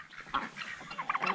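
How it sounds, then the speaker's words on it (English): A young rooster gives short, rough clucking crow-like calls, fairly close and alone, with several brief bursts in quick succession. "He does crow"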